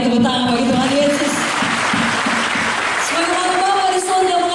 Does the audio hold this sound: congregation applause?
yes